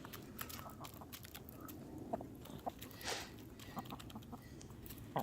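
Barred Rock chickens cluck softly close by while being hand-fed, with scattered scratchy footsteps and a few brief sharper squawks over a low rustling background.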